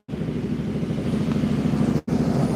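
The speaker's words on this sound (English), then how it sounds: "We got this motorcycle getting ready to come through." A motorcycle rumbles past near a carp fishing spot, a steady loud low engine drone that holds for about two seconds, cuts out briefly, then resumes.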